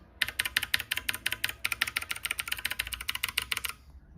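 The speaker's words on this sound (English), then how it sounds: "It's a HyperX Alloy Origins. This is a mechanical keyboard with clicky switches. So this is gonna sound loud" Fast, steady typing on a HyperX Alloy Origins mechanical keyboard with clicky switches, each keystroke a crisp, loud click in a quick even rhythm, close up and alone for about four seconds.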